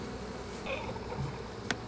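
Honeybees buzzing steadily in a hive that had swarmed, a continuous close insect drone with one brief sharp click near the end.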